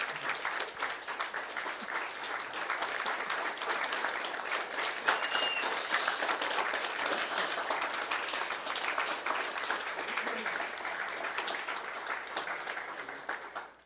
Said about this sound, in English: If they would stand to be applauded.